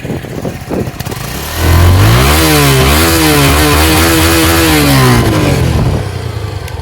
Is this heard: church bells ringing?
no